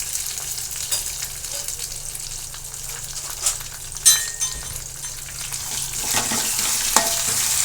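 A curry mixture for Maharashtrian dahi kadhi sautés in oil, giving a soft continuous sizzle broken by occasional stirring scrapes and spoon taps nearby.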